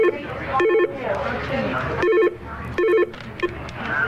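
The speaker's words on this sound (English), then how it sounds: "Then all of a sudden, phone calls start happening." Telephones in a TV newsroom ring in repeated short electronic trilling bursts over steady room noise, with several rings close together.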